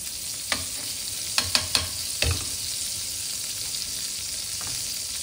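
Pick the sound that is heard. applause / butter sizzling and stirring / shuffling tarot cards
butter sizzling and stirring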